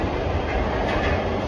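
Metro train running along the track with a steady loud rumble and rattling wheel noise filling the whole stretch, no talk over it.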